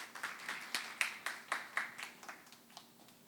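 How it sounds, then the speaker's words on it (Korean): Sparse clapping from a small audience at a Korean green tea taste education lecture, a handful of distinct claps in a steady rhythm, faint and thinning out toward the end. "큰 박수 부탁드리겠습니다."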